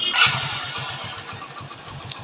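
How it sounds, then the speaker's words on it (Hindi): A Hero Splendor motorcycle engine starts up and settles into a close, steady, rhythmic low putter of idling, heard alone without talk. "तो यहाँ पे हमने बाइक को स्टार्ट किया"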